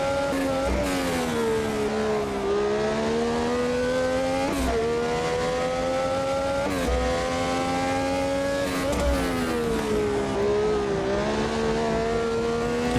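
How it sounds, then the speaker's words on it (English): A Brabham BT46B fan car races through Hawthorne Bend at full speed, its loud engine holding a steady high whine with brief dips and rises as it shifts and sweeps through the corner, with no talk over it. "Into Hawthorne Bend, and now finally got past and has some free air to try to make up the almost now 7-second gap Andretti has on the rest of the field."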